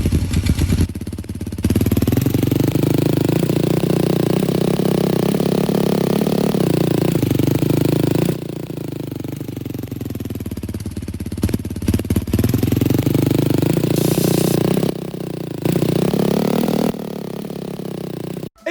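A Honda CRF 450 dirt bike engine in a Roblox game starts, then idles and revs in rising and falling waves, a loud rattling buzz close up, with brief pauses between runs.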